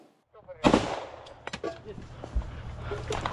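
Gunfire and explosions during a Ukrainian military assault in a forest, with a sharp close blast followed by scattered shots and thuds echoing among the trees, voices faintly mixed in.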